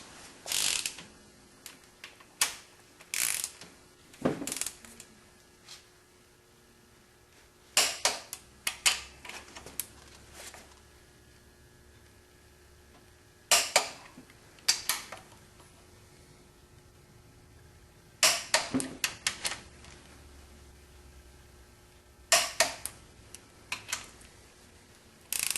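A torque wrench tightening bolts on a Ford flathead engine during a rebuild gives short bursts of sharp ratcheting clicks, close and clear, repeated in several separate groups with quiet pauses between them.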